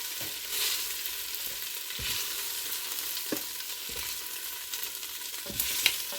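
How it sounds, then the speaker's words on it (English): Beef chunks sear in a Ninja pressure cooker, giving a soft, steady sizzle with occasional light clicks and scrapes of stirring, quiet and close with no voices. "Our beef is in there sealing."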